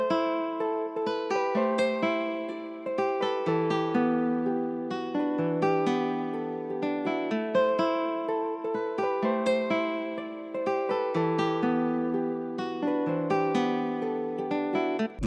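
A looping guitar beat in FL Studio layers a plucked guitar part with a top line pitched up an octave, repeating in a steady rhythm with clear ringing notes and no voices.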